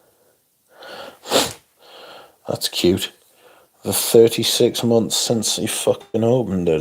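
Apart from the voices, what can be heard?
sneeze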